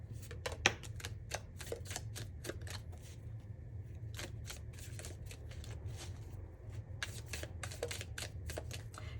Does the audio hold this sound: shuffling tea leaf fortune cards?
yes